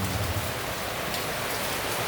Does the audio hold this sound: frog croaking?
no